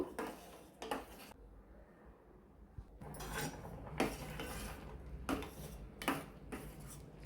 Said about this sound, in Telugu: ఈ నూక అయితే వేసుకోవాలి బాగా కలపాలి ఉడకనివ్వాలి చాలాసేపు